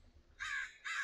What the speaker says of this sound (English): Oh, these birds are loud.